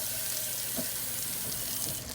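A pot being rinsed under a running kitchen tap, a steady broadband rush of water with slight splashing changes as it hits the pot.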